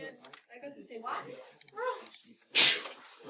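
A sharp, brief sneeze bursts out after a stretch of quiet conversation, louder than the voices around it.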